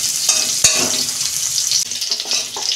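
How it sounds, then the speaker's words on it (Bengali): Potatoes fry in a pan with a steady, bright sizzle, broken by a few sharp clinks and scrapes of a utensil against the pan. "আলুগুলো একটু 2 মিনিট আমি ভেজে নেব।"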